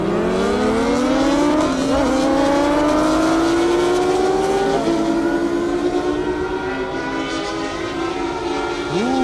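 A Kawasaki H2 and a ZX14R motorcycle drag race down an airport runway, engines screaming loudly as they rise steadily in pitch through the gears with short shift breaks, a continuous high-speed wail with no talking.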